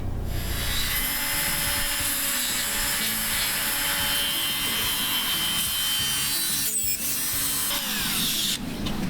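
Continuous loud grinding and rasping as a power carving tool cuts into the deadwood of a shinpaku juniper bonsai, a steady close-up scrape with a brief dip near the end.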